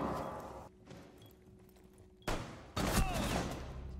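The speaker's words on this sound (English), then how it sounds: "Oh, I got shot from the hatch." Gunfire from an attacker shooting down through a floor hatch in Rainbow Six Siege, a sudden loud burst after a quieter stretch, followed by a second, heavier volley of shots close by.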